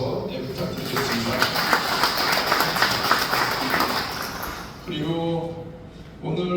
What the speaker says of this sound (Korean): 우리 변삼수 위원장 포함해서 우리 위원분들에게도 박수 한번 부탁드리겠습니다